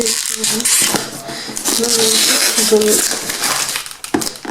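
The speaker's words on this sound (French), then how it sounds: "ils ont mis un emballage plastique et encore un autre emballage plastique." Plastic packaging crinkles and crackles continuously up close as it is handled and pulled open, with a person talking over it.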